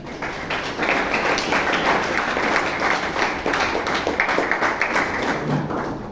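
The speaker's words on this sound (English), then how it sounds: "give a huge round of applause to the two judges." An audience at a Toastmasters club meeting in Bangalore claps loudly and steadily, a dense, sustained patter of many hands filling the room for several seconds.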